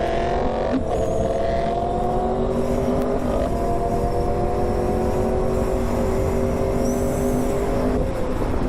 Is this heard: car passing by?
yes